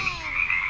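A frog croaks in a steady, close, moderately loud run of rasping pulses with nothing else heard.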